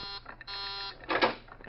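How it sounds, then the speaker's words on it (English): A warning buzzer signalling that someone is coming out sounds in steady electric tones, a long buzz, a brief break, then another, with a louder burst of noise near the end. "That's the warning buzzer."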